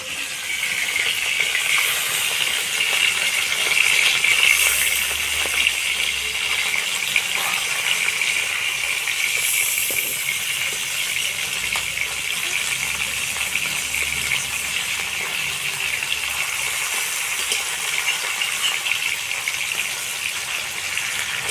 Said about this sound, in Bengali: এবার আমি মাছগুলোকে উল্টে দেবো।